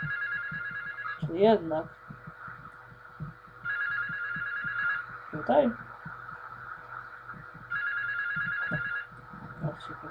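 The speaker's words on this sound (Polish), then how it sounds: "Telefon już dzwoni." A telephone rings in the video game GTA III, repeated electronic ring bursts of about a second and a half with pauses between them, heard under someone speaking over low game background noise.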